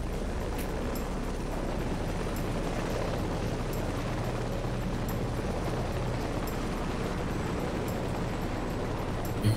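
Army troop-carrier helicopter in the combat game Heliborne, its rotor and engine drone loud and steady throughout, with faint rhythmic blade thumps.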